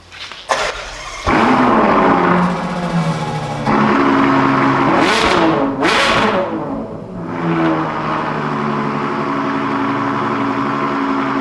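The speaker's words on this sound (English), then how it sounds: "I need to hear this baby roar, so can we start her up?" A supercar engine cranks and fires, settles into a loud, close idle, then gives two sharp, rising revs before falling back to a rumbling idle.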